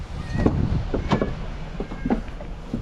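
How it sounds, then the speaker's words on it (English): Wind buffets a microphone outdoors before sunrise, producing a steady low rumble with uneven gusts throughout. "This wind sucks though."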